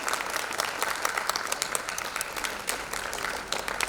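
Warm, continuous applause from an audience at an Indian classical dance debut ceremony, a dense even patter of many hands clapping with no talk over it.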